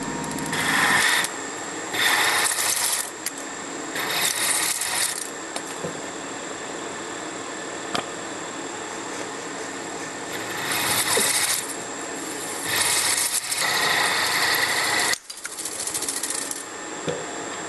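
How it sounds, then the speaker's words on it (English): A milling machine's end mill plunges slowly into a part with occasional cutting fluid, a steady harsh grinding whir with a high whine, broken by a few louder cutting surges over about eighteen seconds, close and loud. "Plunge the end mill into the part slowly,"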